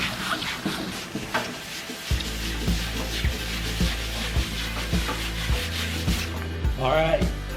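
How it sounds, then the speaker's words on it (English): Rubbing with fine abrasive over a wooden table's finish, close and quiet, in steady repeated back-and-forth strokes with a faint rhythmic thump beneath them. "it's almost like a high grit sandpaper"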